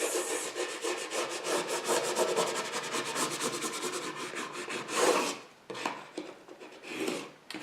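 A tool rubs back and forth over vinyl laid on a wooden sign, giving close, rapid rhythmic scraping strokes that slow and break into shorter rubs toward the end.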